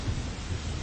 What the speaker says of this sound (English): The driving rain started to come down in stinging sheets.